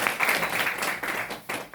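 Audience clapping at a direct-selling gathering comes as a short stretch of moderate applause from a group, uneven in density with a couple of brief dips, fairly near and without clear talk over it.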